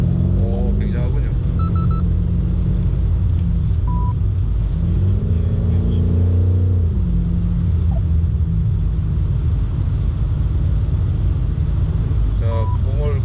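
BMW M5 sedan engine droning and rising in pitch as it accelerates along a straight, a loud steady rumble with shifting tones, heard from inside the cabin.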